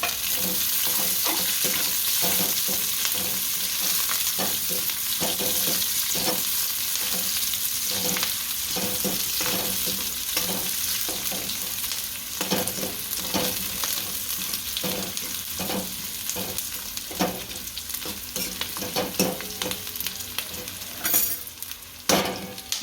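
Onions frying in hot oil for vegetable hakka noodles in a home kitchen, with a steady loud sizzle and repeated stirring scrapes. Occasional light clinks of the utensil against the pan can be heard.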